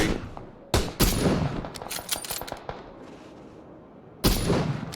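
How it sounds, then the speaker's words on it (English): Long-range gunfire in a competitive team video game, a burst of sharp cracking shots with distinct loud reports at the start and again near the end, fainter pops between; no speech. "Getting some long range shots in here"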